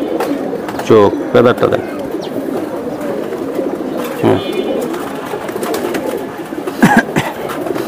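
Gorra pigeons coo close by in several short bursts, with people talking over and between the calls.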